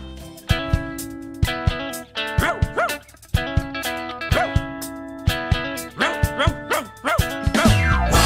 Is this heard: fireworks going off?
no